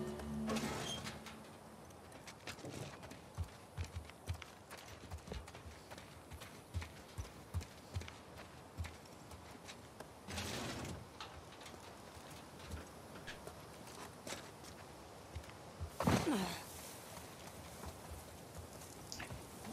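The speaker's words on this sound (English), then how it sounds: "Now the horse coming slowly." Hooves of a horse in the video game The Last of Us Part II clop in a steady rhythm, faint at first and drawing nearer, with a couple of louder swooshing bursts along the way.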